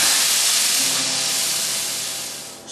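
Steak sizzles in a hot pan with a loud, dense, continuous hiss that eases off toward the end.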